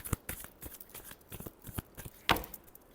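Tarot cards are shuffled by hand in quick, uneven riffling bursts and soft slaps, close and fairly quiet, with a louder snap near the end.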